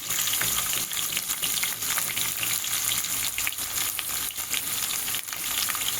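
Chopped onion fries in hot oil with mustard seeds, cumin and chana dal, a loud, steady, close sizzle that crackles continuously throughout with no talking.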